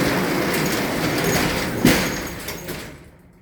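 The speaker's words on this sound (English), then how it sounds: "Let me shut the garage door." A garage door is pulled shut against a steady rumbling background, landing with one sharp clunk midway that fades off into near quiet.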